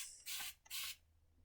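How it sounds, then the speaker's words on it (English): Two quick bursts from an aerosol spray bottle mist aloe vera juice onto hair, each a close, bright hiss of about a third of a second separated by a short pause, then quiet. "So now I'm going to spray my hair with the aloe vera"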